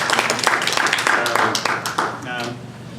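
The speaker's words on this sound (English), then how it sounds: "let's give them a round of applause for being brave enough to run for office" Applause and scattered clapping from a League of Women Voters forum audience for Oklahoma House District 79 candidates, with voices talking over it.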